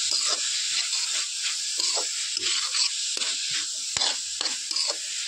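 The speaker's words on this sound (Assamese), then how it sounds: "এনেকৈ লৰাই থাকিম কিছু সময়।" Red coconut laddu mixture sizzles and hisses in a pan while being stirred, with repeated soft scraping strokes close up; no talking.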